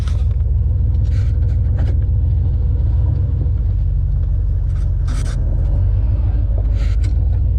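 A 1973 Ford F-250 pickup drives in along a logging property, its engine a loud, steady low rumble from inside the cab, with occasional rattles and bumps over rough ground and no talk.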